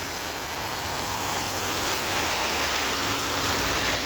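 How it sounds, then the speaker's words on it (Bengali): Heavy rain pours steadily outdoors beside a busy road in Saudi Arabia, a dense, even roar of downpour that holds strong and unbroken throughout. "বৃষ্টি আরো জোরে পড়ছে"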